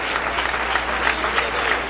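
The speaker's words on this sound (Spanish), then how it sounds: "Damos un fuerte aplauso a la presencia de Dios." A church congregation applauds during a Spanish-language service, a dense continuous wash of clapping at steady loudness with no pauses.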